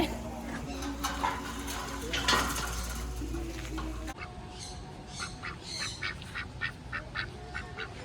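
Ducks quacking at an elephant park in Pattaya, a run of short squawky calls in the second half following clattering and a louder ambient mix with voices at the start.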